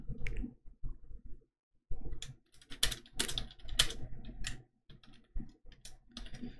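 Clacking keystrokes on a computer keyboard come in short, irregular bursts with brief pauses, close and fairly quiet, with no talking.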